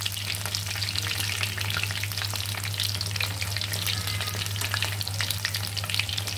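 Pitha cakes fry steadily in hot oil in a home kitchen, a dense continuous sizzle with faint crackles and a soft stir or scrape now and then as the cakes are turned, close and without talk.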